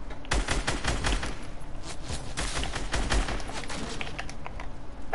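Rapid, sustained gunfire from the video game Fortnite, dense overlapping shots and bursts crackling continuously throughout at a loud level.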